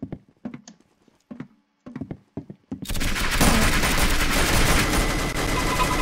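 A minigun opens fire in Call of Duty after a few scattered sharp clicks and taps, then a sustained, loud, dense roar of rapid gunfire fills the rest of the clip.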